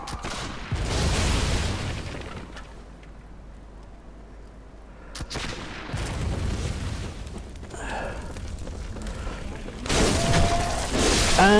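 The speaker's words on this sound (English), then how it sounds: "this is a gauntlet of you being shot with a cannon" Cannon fire in the video game Bloodborne: loud booming blasts with crackling, shattering bursts, broken by a quieter stretch and swelling again near the end.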